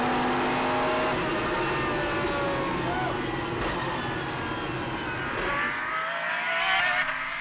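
A Pagani Zonda R supercar accelerating hard down a short runway at Modena, its engine note climbing steadily in pitch through the gears, loud and close throughout, easing off near the end.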